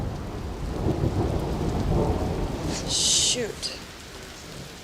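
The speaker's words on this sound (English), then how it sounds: "It's thundering quite a bit." Thunder rumbles and rain falls during a storm in Yellowstone's Upper Geyser Basin near Old Faithful, a steady broad wash of rain with low rolling thunder, a brief bright burst near the middle and a quick spoken word.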